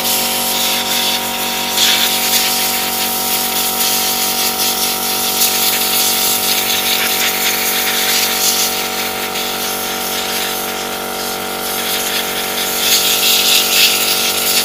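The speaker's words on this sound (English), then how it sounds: "Because the board is hot, Roger, I'm gonna use the air compressor so I can take the flux out of the ship, no?" Compressed air blasting from an air compressor nozzle to clear flux off a hot iMac graphics card, a loud continuous hiss with a steady tonal hum beneath it, close by.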